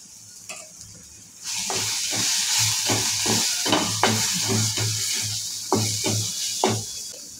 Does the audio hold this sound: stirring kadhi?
yes